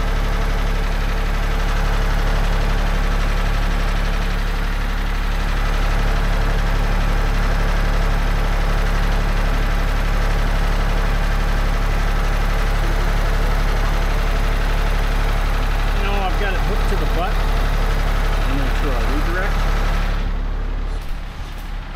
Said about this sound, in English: You mind getting set up over here with the tractor for me, please?